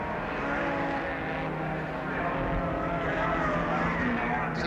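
Race cars lap the 1968 Warwick Farm circuit, including a Lancia Fulvia HF, making a steady, broad engine roar heard at a distance and continuing without a break.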